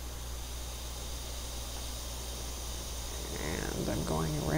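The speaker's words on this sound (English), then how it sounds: "Let's make pink noise" Steady pink noise hisses evenly across the whole stretch, loud and unbroken, with a low hum beneath; a voice begins speaking over it near the end.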